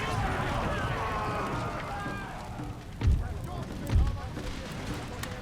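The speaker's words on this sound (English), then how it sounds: "I want the constant stream of grenades going into this opening" Grenades bursting in an Empire Total War battle, two deep thuds landing a second apart over a constant din of musket fire and battle noise, with a voice talking over it.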